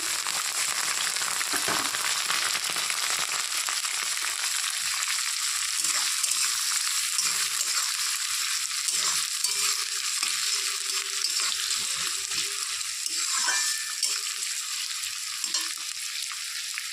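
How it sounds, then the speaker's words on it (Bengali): Chopped onions sizzle steadily in hot oil with garlic already fried, for a dry fish bhorta, with intermittent scraping stirs across the pan throughout; no talking. "এখন দিয়ে দিব পেঁয়াজ কুচি"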